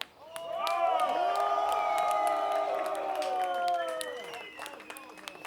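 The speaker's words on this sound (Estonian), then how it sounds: "palun kõva aplaus kaaskorraldajatele Jaanus ja Viljar" A crowd at a metal event applauds and cheers for the co-organizers, loud sustained clapping with whoops and shouts swelling then slowly fading.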